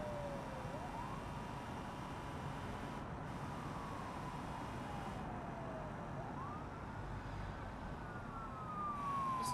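Police car siren in BeamNG.drive, a wailing tone that rises and falls steadily over continuous engine and road rumble, moderately loud and present throughout, with no talking.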